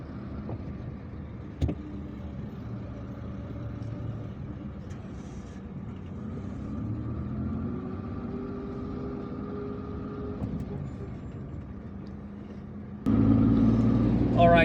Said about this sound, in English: Whereas other trucks are also returning empty containers to their owners.